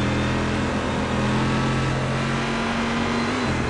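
A race car engine in a sim racing game at Spa, sputtering and failing: a steady loud mid-pitched drone with shifting tones, continuous throughout and not interrupted by talk.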